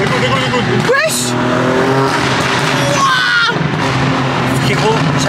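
BMW M3 tuned to 912 horsepower driving hard, with loud engine roar rising and falling and tyre squeal throughout, close and continuous, while people talk over it.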